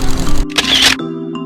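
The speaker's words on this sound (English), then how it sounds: "because our shutter speed is fast, then we were able to capture that exact moment" A camera shutter fires in a burst, a short broadband series of clicks in the middle, between quieter stretches of background noise.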